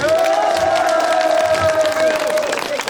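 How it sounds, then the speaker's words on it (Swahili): Crowd at a political rally in Naivasha cheering and applauding, a dense continuous roar with a sustained shouted tone running throughout, loud and steady for the whole stretch. "Wapi makofi ya rais?"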